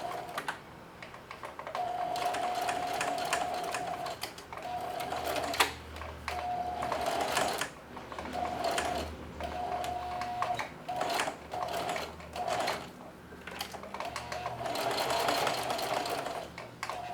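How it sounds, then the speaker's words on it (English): A sewing machine straight-stitches apron straps, running in steady bursts with brief pauses between runs, close and clear with no talking. "Here we go, straight stitching."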